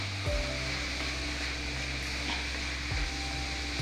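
A teaspoon of garam masala being stirred into a pan for a cutlet filling, with a steady sizzle and a few scraping stir strokes, close and continuous with no talk.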